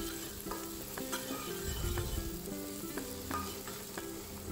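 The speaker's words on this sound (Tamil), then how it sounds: "2 பச்சை மிளகாய் போட்டு நல்லா வதங்கி விடுங்க." Sliced onions and two green chillies sizzle and fry in a pan for a Saidapet vada curry, a steady close hiss with occasional stirring scrapes and clinks, no talking.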